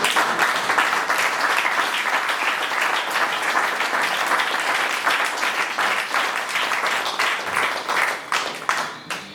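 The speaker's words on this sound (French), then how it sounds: "J'aimerais vraiment que vous acclamiez au nom de Jésus." A church congregation cheers and applauds, a dense, continuous wash of clapping and voices that holds steady for several seconds before thinning slightly toward the end.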